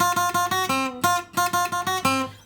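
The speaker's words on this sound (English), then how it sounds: "Again, if it wasn't palm muted, it would sound like this." An unmuted guitar rings out through a hip hop riff, a steady run of about a dozen plucked notes with strings left to sustain and overlap, repeating in two similar phrases, close and clear with no voices.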